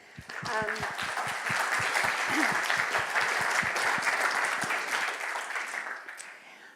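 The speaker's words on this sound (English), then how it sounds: "Ladies and gentlemen, please, round of applause for Geoff." Sustained audience applause at the 2018 Echo Summit, a dense wash of many hands clapping that swells, holds steady for several seconds, then tapers off, with a few voices briefly audible early on.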